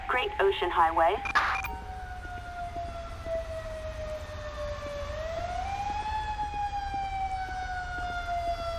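A video game fire engine siren (GTA 5) wails with a sustained tone that slowly dips and rises, looping steadily after a brief burst of speech at the start.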